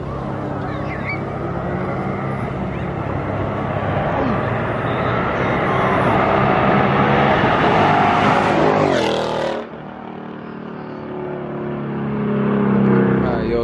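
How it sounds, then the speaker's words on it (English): A Toyota Supra and a Ford Mustang street racing: loud, roaring engines and rushing tyre and wind noise build, then cut off abruptly, and a vehicle surges again as the clip ends, with people talking over it. "We got a Supra and a Mustang about to race."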